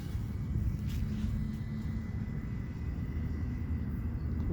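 A DJI Mavic Mini drone fitted with new propellers flying over a baseball field: a faint, steady, distant whir beneath a low, constant outdoor rumble, with no talking.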